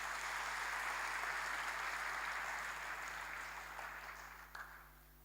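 A church congregation claps during a sermon, the broad, steady applause holding strong before gradually thinning out over the last couple of seconds.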